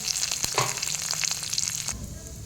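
Tempering seeds, curry leaves and ginger-garlic paste fry in hot oil for an egg roti pachadi, giving a loud, steady sizzle with crackling pops near the start that cuts off abruptly toward the end.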